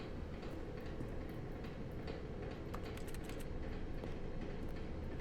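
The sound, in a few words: train-like rumble in the video game The Stanley Parable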